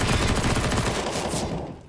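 Automatic weapon in a shooter video game sprayed in one continuous, loud, rapid burst that runs until the magazine empties and then cuts off abruptly.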